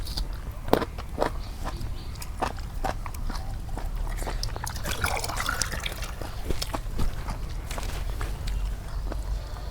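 Water trickles and splashes as it is poured for drinking during a home meal of chicken bhuna with potatoes, a steady close liquid pour mixed with sharp clicks and eating sounds.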